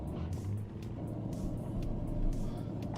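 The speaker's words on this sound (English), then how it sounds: "That's the engine brake." A Scania truck's engine brake in Euro Truck Simulator 2 holds a steady, heavy low rumble that swells slightly near the end, droning close and alone.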